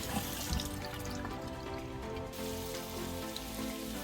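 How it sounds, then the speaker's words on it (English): Hot tap water runs and splashes steadily over canned ackee in a strainer in a kitchen sink, a constant hissing spray heard alone throughout. "You pour it in there and just use some hot water to rinse it off"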